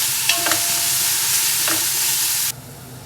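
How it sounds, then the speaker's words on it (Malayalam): Sliced onions sauté with whole spices in a pan for meat rice, giving a steady close sizzle with a few spatula scrapes, then cutting to a quieter hiss near the end. "നമുക്ക് അതിലിട്ടിട്ട് ഒന്ന് വഴറ്റിക്ക് കൊടുക്കാം കേട്ടോ"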